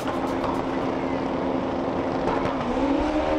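Super street bikes launching off the start line at a drag event, a loud sustained engine roar that rises in pitch as they pull away.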